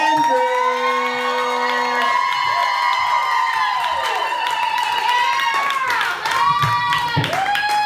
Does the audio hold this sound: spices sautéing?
no